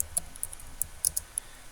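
Keyboard typing as a city name is entered into a map search: a short run of light, scattered clicks, about ten irregular taps, faint and close with no talk.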